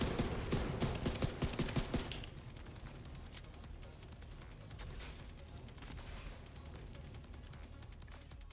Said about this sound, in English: There's some shooting.